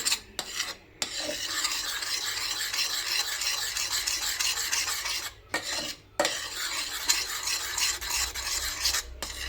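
Continuous scraping and stirring of custard powder mixture in a pan on the stove for mango caramel pudding, a spoon rasping steadily against the pot with two brief pauses, close and fairly loud with no talking.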